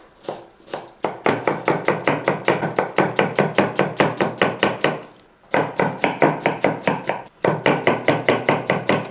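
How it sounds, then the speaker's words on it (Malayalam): Onions, carrot and green chillies are chopped on a board in a home kitchen, sharp rapid knife strikes in quick regular bursts with two brief pauses, close and loud with no voices. "ഒരു 2 സവോളയും 1 ക്യാരറ്റ് 2 പച്ചമുളക് അതൊക്കെ ഒന്ന് അരിഞ്ഞെടുക്കാം."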